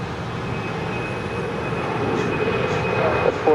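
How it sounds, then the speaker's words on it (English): A Delta Air Lines Airbus A321 arriving from Atlanta lands at LAX. Its engines give a continuous broad rumble that slowly swells toward the end. "Delta Airlines Flight 412 coming in from Atlanta in the A321"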